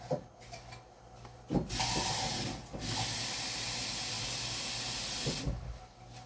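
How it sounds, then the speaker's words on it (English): Water pours from a tap into a cooking pot of dragon fruit jam in short bursts, with a steady hissing rush broken by brief pauses and light clinks, close and fairly loud, with no talking. "So I am going to add a little bit of water."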